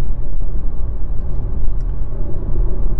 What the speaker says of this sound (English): Some first wind noises, you can hear the rolling of the tires